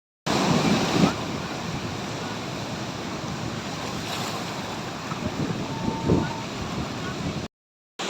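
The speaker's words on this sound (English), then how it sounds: "I'm feeling my voice being overwhelmed by the sound of wind and the wave clapping." Roaring surf and wind blend into a constant wash, with louder wave surges rising now and then; no voices, ending in a short silence.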